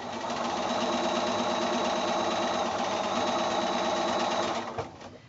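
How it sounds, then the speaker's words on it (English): Sewing machine chain piecing quilt block pieces along a drawn line, running in a steady continuous whir that stops near the end. "So right on that drawn line we're sewing."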